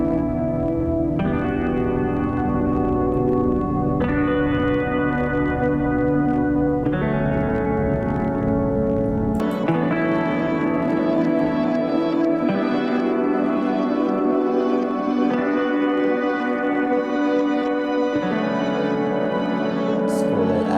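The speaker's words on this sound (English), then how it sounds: "Delays and reverb." Instrument played through delay and reverb effects from a Fractal FM3 unit, sustained tones repeating in rhythmic echoes with a wide washy tail, steady and loud throughout with chord changes every few seconds.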